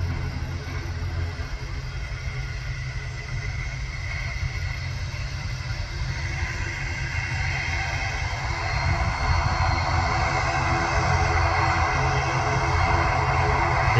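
Loud, steady roar of Boeing 737 MAX jet engines running, a broad rumble with a whining hum that swells slightly louder partway through as the left engine starts.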